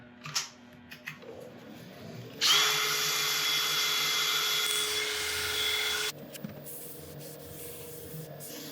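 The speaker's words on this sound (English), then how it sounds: "I've got a very fine abrasive pad on here, which I'm just going to give this a quick going over" Fine abrasive pad sanding a monkey puzzle wood bowl spinning on a lathe: a steady, loud whirring hiss with a high whine, lasting about four seconds before stopping abruptly, with quieter workshop clatter before and after.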